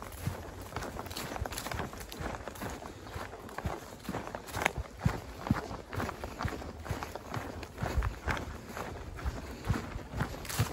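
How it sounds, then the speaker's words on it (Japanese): Steady crunching footsteps outdoors, walking at an even pace over rough ground, moderately close, with a faint hiss of background noise. "足音がねこう聞こえますよね"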